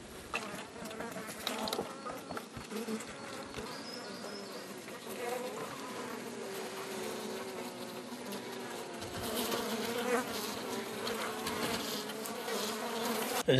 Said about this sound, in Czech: Tak se ukážeme, jak vypadají tyto včely.